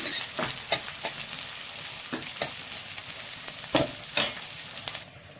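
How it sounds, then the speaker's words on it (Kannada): Finely chopped onion frying in hot oil for an egg gravy, a steady close sizzle with irregular scrapes and clinks of stirring, the frying dropping away near the end, no voices. "ಇಲ್ಲಿ ಆನಿಯನ್ನು ಚೆನ್ನಾಗಿ ಫ್ರೈ ಆಗ್ತಾ ಇದೆ"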